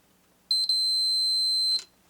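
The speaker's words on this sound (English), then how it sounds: "So if it beeps, fuse is good." A multimeter continuity test on a fuse: a steady high-pitched electronic beep lasting over a second, preceded by a couple of brief stuttering chirps, close and clear.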